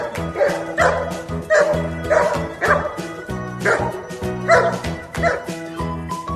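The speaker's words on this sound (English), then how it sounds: "Dog." Dog barking with short yipping woofs in quick repeated bursts, loud and close, with a steady musical backing underneath and no talking.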